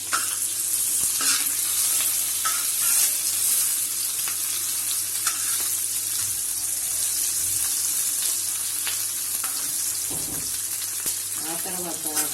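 Green chilli and capsicum pieces frying in hot oil in a pan, a continuous crackling sizzle with scattered pops and spatters, with occasional faint voice in the background.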